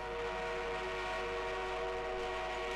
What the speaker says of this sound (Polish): Przybył pociąg pancerny wroga.